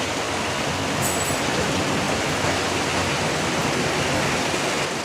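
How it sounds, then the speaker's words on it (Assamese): Heavy evening rain falls outside a house, a dense, continuous roar of water at steady loudness with no pauses and no voices. "ইমান বেছি বৰষুণ দিছে"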